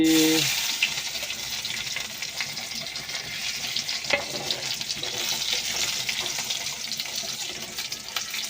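Cumin seeds and chopped garlic frying in hot oil in a village kitchen, a steady close sizzle with scattered pops and stirring scrapes, a brief voice at the very start.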